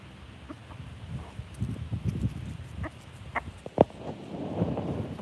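Chickens on a rare fruit farm cluck softly nearby, with scattered low clucks, scratching and pattering and one sharp louder knock. It is faint and irregular, with no talk.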